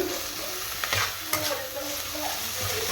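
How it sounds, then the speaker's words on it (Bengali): Prawns frying in a pan, a steady close sizzle with a few brief clinks and stirring knocks, no talking. "চিংড়ি মাছটা একটু ভেজে নিচ্ছি"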